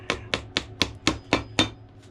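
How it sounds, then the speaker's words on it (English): A hammer drives clinch nails into a leather shoe sole resting on a cast iron last, giving seven evenly spaced, sharp close taps with no talking. "once you hammer it down in there"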